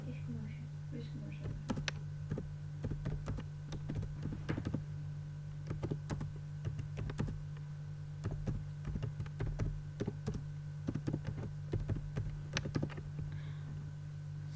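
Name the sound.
typing on a computer keyboard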